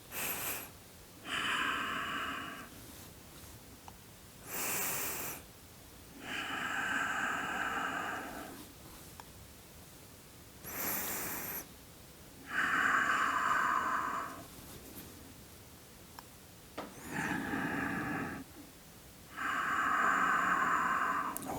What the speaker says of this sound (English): Take a deep breath and leave it.